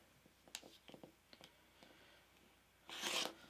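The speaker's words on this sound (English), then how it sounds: "and then I'm simply going to cut them apart." Two sewn quilt pieces are cut apart into half-square triangles, giving faint, sparse snips and rustles, then a brief louder swish of fabric near the end.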